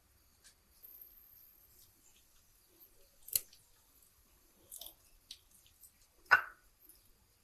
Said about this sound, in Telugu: ఆవాలు చిట్పట్లాడుతుందండి.